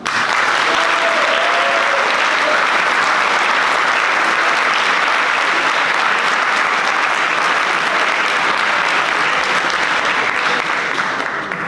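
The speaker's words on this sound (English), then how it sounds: "Please give a warm applause for Argentina and China." Delegates at a Model United Nations closing ceremony give sustained, loud applause for the honoured delegates, dense and even clapping filling the hall throughout before easing slightly at the end.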